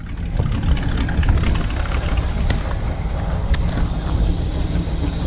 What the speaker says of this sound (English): Not a lot of smoke at startup. Engine still sounds good.